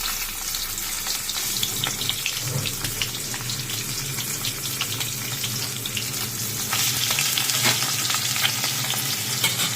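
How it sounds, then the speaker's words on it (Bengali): Fish fried a few pieces at a time in hot oil in a home kitchen make a dense, continuous crackling sizzle, close and loud, that swells slightly toward the end. "তিনটে তিনটে করেই ভাজি"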